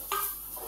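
Paneer pieces fry in oil in a kadhai and get a quick stir: one short scrape over a soft, steady sizzle, close and brief.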